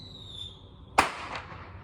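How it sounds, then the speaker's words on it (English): A single sharp firework bang about halfway through, echoing briefly, over a quiet outdoor background with a faint high whistle earlier. "That was a firework."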